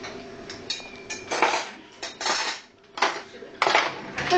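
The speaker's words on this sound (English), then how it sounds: "an old woman drying dishes" An elderly woman drying dishes and cutlery at home at Christmas, with a run of clinks and clatters of plates and silverware in irregular bursts, close by and fairly loud, with no talking.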